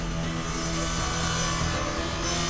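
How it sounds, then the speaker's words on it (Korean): An electric chainsaw cuts through thawed timber at a house-building site, a loud continuous roaring drone that holds steady throughout. "굉음과 함께 순식간에 나무를 절단하는 전기톱은 언제나 위협적이다"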